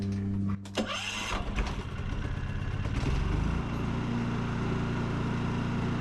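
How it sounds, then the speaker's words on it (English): A generator engine cranks a few times after the choke is pulled, catches near the start and settles into a loud, steady running drone that continues to the end. "So we're going to switch it on."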